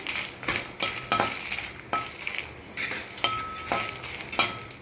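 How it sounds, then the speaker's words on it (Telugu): Dried red chillies fry in a little oil in a pan while making curry leaf podi, giving a steady sizzle with repeated clinks and scrapes from a stirring spoon against the pan. "ఇక్కడ కొంచెమే ఆయిల్ వేస్తున్నా. వేసి మిరపకాయలు వేసుకుందండి"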